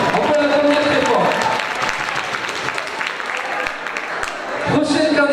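An audience at a town festival queen election applauds a candidate with loud, dense clapping that holds steady for several seconds, a voice faintly present at the start and again as the applause fades at the end.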